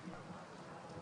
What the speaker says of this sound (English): You can hear on the microphones the rain sloshing.